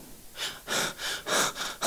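Rapid, heavy breaths in and out, a voice imitating panting as if out of breath, about four close bursts with no words.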